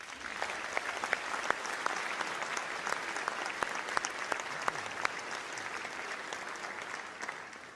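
Audience at the Oklahoma Annual Conference applauding new church starts, steady broadband clapping from a large seated crowd, with a few sharper individual claps standing out, moderately distant and sustained throughout without any speech.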